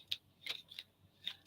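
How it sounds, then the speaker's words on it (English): Tarot cards shuffled at a table, heard as four quiet, crisp riffling snaps spaced irregularly, with no talk over them. "while Scott is shuffling the cards"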